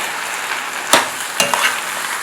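Saffron chicken and seafood paella in a pan gives off a steady sizzle, broken by two sharp utensil scrapes and knocks while the rice is stirred, close and alone with no voices.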